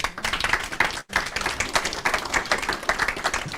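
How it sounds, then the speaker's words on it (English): Audience applause at a panel discussion on the Casey Review of Metropolitan Police culture, brisk rhythmic clapping from a room of people with a brief break near the start, then steady and fairly close. "Give her a round of applause."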